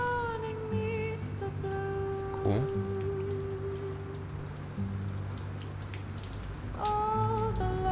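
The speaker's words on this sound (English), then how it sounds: "It's raining inside her house." Steady indoor rain in the video game A Memoir Blue patters continuously against a surface, with a soft hiss throughout and sustained musical tones in the background.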